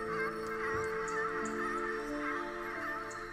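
Geese in Ori and the Will of the Wisps give a few harsh honking calls over a steady, tonal music bed, the squawks sharp and fairly close.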